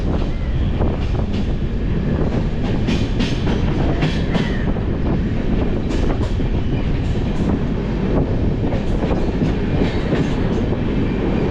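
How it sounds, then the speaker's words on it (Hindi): The Rewanchal Express running on its tracks toward Rewa, a loud, continuous rumble with rhythmic clickety-clack wheel beats and rushing wind noise, heard up close for the whole stretch. "ये हमारी रीवांचल एक्सप्रेस लगातार बढ़े जा रही है रीवा की तरफ"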